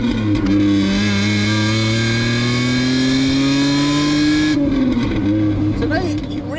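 Lamborghini LM002 truck with a V12 engine accelerating in first gear, a loud close engine note climbing steadily in pitch before easing off, with talk over it.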